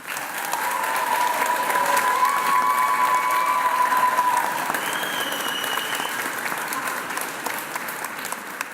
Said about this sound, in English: Can you return the honour back to them and applaud them?